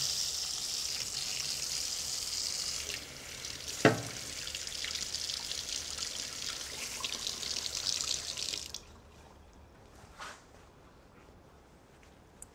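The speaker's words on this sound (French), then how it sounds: "je vais chauffer ma lame sous l'eau chaude afin de le trancher plus facilement" Hot water from a kitchen tap runs in a steady hiss over a knife blade, with one sharp clink partway through, before the flow stops and the room falls quieter.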